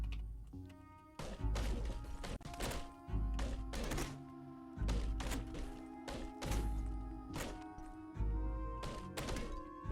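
Pickaxe mining through walls in Caves of Qud, a run of sharp, heavy thunks and crunching impacts at an irregular pace over ringing game music, close and loud.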